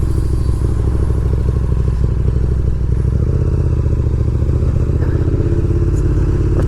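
A 2019 KTM Super Duke R motorcycle rumbles steadily while being ridden, its engine note loud and close throughout, with a slight rise in pitch partway through and no talk.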